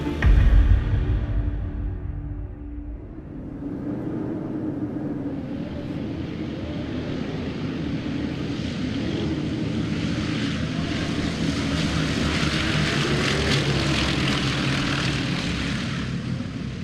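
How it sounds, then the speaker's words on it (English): Four massive engines of a B-24 Liberator heavy bomber power up into a loud, steady propeller roar and rumble that builds and holds, close and continuous with no voices. "As Captain Mellion powers up the 4 massive engines, there is no indication of the disaster that lies ahead."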